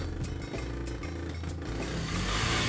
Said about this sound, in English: speedy red quad bikes